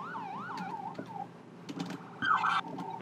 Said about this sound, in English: Let's test sirens.